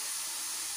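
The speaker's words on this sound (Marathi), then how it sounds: "आणि ही जी वाफ चालली आहे ही थांबली का कुकरचं झाकण आपल्याला लगेच काढून घ्यायचं आहे" Steam hisses steadily from a pressure cooker after dhokla has cooked, a brief, faint, continuous rush of escaping vapour with no talking.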